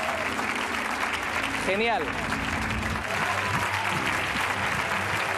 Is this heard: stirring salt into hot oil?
no